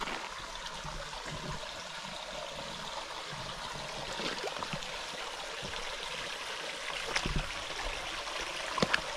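Clear water of a stream running through a ravine, a steady broadband rush and trickle that holds evenly throughout, with no voices.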